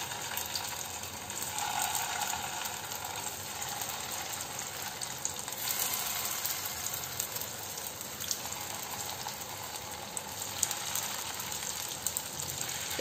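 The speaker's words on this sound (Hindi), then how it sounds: "शैलो फ्राई करने के लिए गैस पर मैंने एक पैन चढ़ाया है और इसमें मैंने डाला है 3 टेबलस्पून के करीब तेल" Corn flour tikkis shallow-fry in about three tablespoons of oil in a pan over a medium-low flame, producing a steady, even sizzle that holds at a moderate level for the whole stretch without talking.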